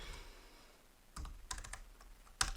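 Text being typed on a computer keyboard, with a short burst of quiet, close keystroke clicks in quick succession after a brief lull, and a final sharper key tap.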